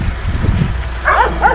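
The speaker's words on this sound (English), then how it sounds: "Wild dogs and a few goats." A wild dog gives a couple of short, high yips near the end, after a stretch of low rumbling noise from a VW T5 van driving off-road.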